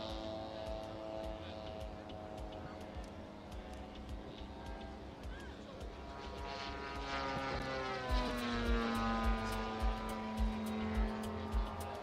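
A World War II propeller aircraft drones past at an air show, its steady multi-engine hum swelling louder in the second half, heard at a moderate distance with some crowd noise.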